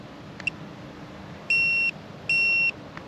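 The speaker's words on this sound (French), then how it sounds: "Quand vous marquez un point, attendez bien que ça bip 2 fois." A GPS baitboat's handset beeps twice, two sustained high electronic tones with a short gap between them, marking a point during a fishing session, over a steady outdoor background hiss.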